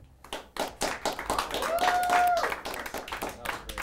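A small group claps and applauds during a podcast game segment, a quick ragged patter of hands that swells in the middle and stays close, with a brief whistle or squeal rising over it partway through.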